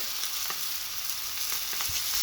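Steak sizzling steadily in a hot frying pan, a continuous bright crackle with scattered pops and a brief stir or turn near the end, close and alone without talk.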